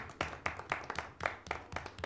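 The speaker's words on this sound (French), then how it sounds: "Est-ce qu'on peut l'applaudir s'il vous plaît?" A small audience claps to welcome a woman being invited forward: a quiet, fairly quick and even run of distinct hand claps, each sharp and separate, with no talking over it.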